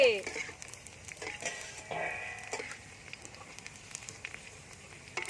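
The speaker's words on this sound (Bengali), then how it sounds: "আমি সব ফুচকাগুলো ভেজে নেব" Fuchka puris fry in hot oil, a soft crackling sizzle with scattered pops and a few louder bursts, fairly quiet throughout, with a voice briefly heard at the start.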